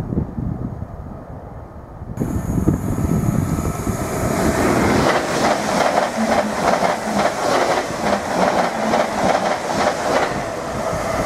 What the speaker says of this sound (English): Right, 745108, speeding past like a rocket, en route to London Liverpool Street